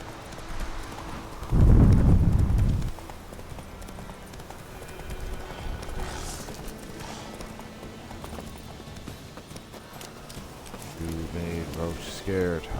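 Hooves of Roach, the horse in The Witcher 3, clip-clopping at a gallop with a loud burst of hoofbeats, then a fainter steady gait beneath game noise and a voice talking.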